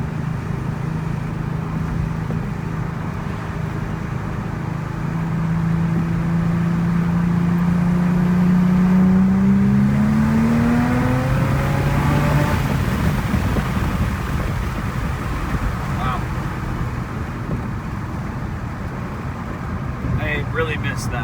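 A 2000 Audi B5 S4, converted back to all-wheel drive, accelerates hard in third gear; the engine note climbs steadily for about nine seconds, then drops away into road and wind noise.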